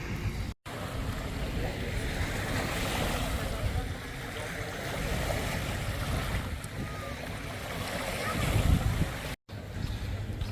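Waves wash onto a sandy beach at Icmeler, Turkey, a steady broadband surf roar mixed with wind buffeting the microphone, swelling briefly toward the end.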